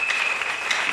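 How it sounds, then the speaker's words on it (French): A church congregation applauding loudly, dense steady clapping filling the whole second with no pauses. "Est-ce que nous pouvons acclamer très fort?"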